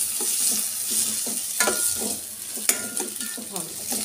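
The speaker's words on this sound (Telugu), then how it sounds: "కాసేపు ఆనియన్ మెత్తగా ఇస్తాము." Onions and green chillies sauté in a pan, a steady sizzle broken by repeated scraping stirs and a sharp clack of the spoon against the metal.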